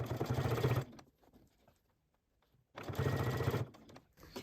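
A home sewing machine stitches the edges of a quilted potholder in two loud, steady bursts of rapid whirring, separated by a quiet pause of about two seconds.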